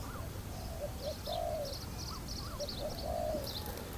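Pigeons or doves coo in repeated soft phrases from birds perched along a power line, with a few higher chirps mixed in over steady outdoor background noise and no talking.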